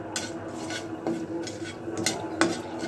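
Stirring utensil scraping and clinking against a pan as cashew nuts fry for a roast dish, with a few sharper metallic knocks over a soft, steady background hiss.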